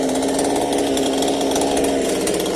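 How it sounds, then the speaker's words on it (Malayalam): Near and loud, a chainsaw whines steadily as it cuts trees that a windstorm blew down beside a house in Vengara Vettuthodu, Kerala. "ട്രോമ കെയർ പ്രവർത്തകരാണ് വീട്ടിൻ്റെ അടുത്തേക്ക് വീണ മരങ്ങൾ വെട്ടിമാറ്റുന്നത്"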